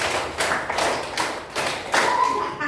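A classroom group claps in unison during a counting clapping game led by a teacher, several ragged bursts of hand claps in quick succession with some voices among them.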